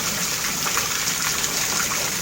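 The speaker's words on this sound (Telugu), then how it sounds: "సో వర్షం అయితే పడుతూ ఉంది" Rain falls steadily near a village during a hot spell while water rushes and gushes nearby, forming a constant dense wash of noise with no voices.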